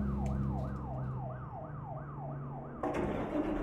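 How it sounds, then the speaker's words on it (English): A wailing emergency vehicle siren in American Truck Simulator sweeps up and down in steady repeated cycles over a constant engine-and-road rumble, and the background gets louder near the end. "Oh, there's those sirens again."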